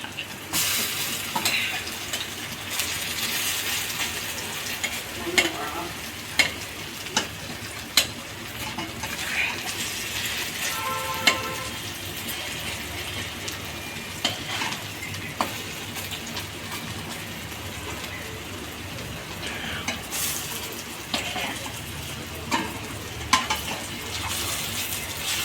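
Drumstick fritters sizzle in hot oil after being flipped, a continuous crackling fry with scattered sharp pops and scraping clicks from stirring, close and unbroken for about twenty-five seconds.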